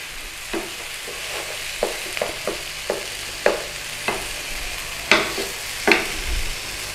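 Beef Madras spice paste with apple cider vinegar being stirred in a hot pan, a soft sizzle under repeated light spoon scrapes and taps at an uneven rhythm.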